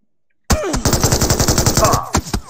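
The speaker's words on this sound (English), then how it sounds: "Shooting at me." Rapid automatic gunfire from PUBG, a battle royale shooter, bursts in after a half-second of silence and rattles steadily for about a second and a half in a loud, close burst, then trails off into a few separate shots.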